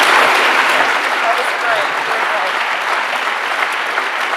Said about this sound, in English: Let's give Jamie a massive round of applause